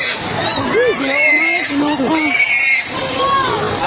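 Pigs squealing loudly in flood water in Cebu, with shrill rising and falling cries that run on over an agitated mix of voices talking nearby.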